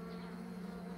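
Korean native honeybees from a strong colony droning steadily at the hive, a close, continuous buzz with no break and no voices.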